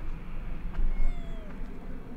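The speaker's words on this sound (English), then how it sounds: "It's a hungry cat." A hungry cat meows in a few short, thin calls, moderately near, over a steady low background hum with no talking.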